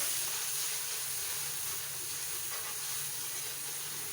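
Spices fry for vegetable rice in a pan, giving a steady, soft, broadband sizzle and hiss that carries on without a break and stays faint and even throughout.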